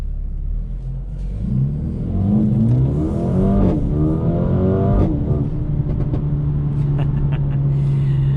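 A 2021 Mercedes CLA 35 with 4MATIC all-wheel drive, set in Sport Plus mode, accelerates hard. The engine drone is loud and close and climbs in pitch through several gear changes, then settles into a steady rumble.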